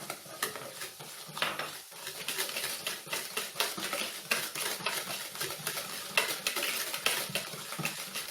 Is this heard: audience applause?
no